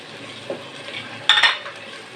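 Boneless chicken dropped into a pan of mixed vegetables, heard as a soft sizzle with a couple of sharp utensil clinks and a brief burst of frying hiss near the end, close and without talk.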